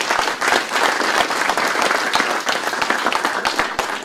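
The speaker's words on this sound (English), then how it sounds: "So let's give a round of applause, please, for all of the organizers." Crowd at an XR challenge event gives a round of applause, many hands clapping loudly and unevenly, with individual sharp claps standing out from the dense patter.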